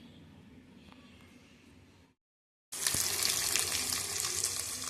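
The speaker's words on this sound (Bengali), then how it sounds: "তেল গরম হয়ে গেছে, এবার ডিমগুলো ছাড়িয়ে একটা একটা করে।" Eggs coated in turmeric and salt dropped into hot oil, a quiet stretch and brief silence before a loud, steady sizzling frying burst takes over close up.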